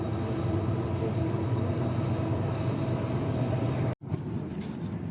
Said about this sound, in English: So it is an active train line.